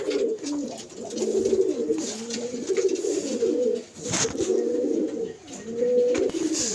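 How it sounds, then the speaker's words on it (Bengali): Pigeons in a stacked breeding-pair cage coo close by, with repeated soft, throaty phrases that rise and fall in a steady rhythm, broken by brief pauses. "এখানে কিছু মাদি পায়রা আমার আছে বিজোর করা"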